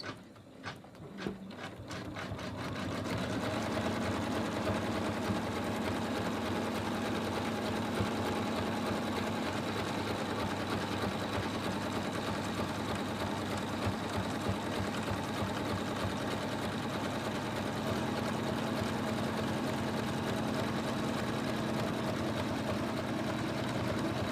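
An embroidery machine stitches an in-the-hoop tortoise design, running as a steady, continuous mechanical whir with a fast needle rattle that holds close and even throughout after a brief start.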